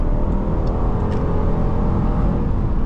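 A 2025 Dodge Durango R/T accelerating hard from 0 to 60, its engine giving a steady, loud, close droning roar from inside the cabin, with no talk.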